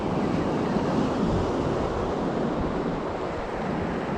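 Ocean surf breaks on a Florida beach near St Augustine, a continuous broad roar of waves mixed with wind buffeting close by.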